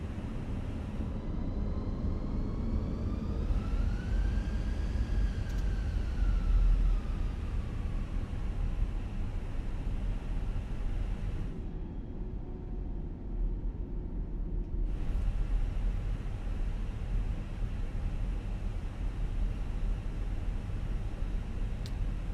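Airbus airliner on its takeoff roll in Microsoft Flight Simulator 2020, a steady engine roar and rushing noise with a tone that rises and falls, a sudden hush midway, then the roar resuming.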